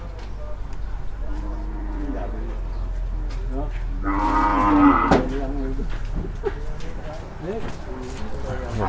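Cattle low and moo at a livestock market in Tak, Thailand, with a louder drawn-out moo standing out midway, while someone talks throughout over the herd.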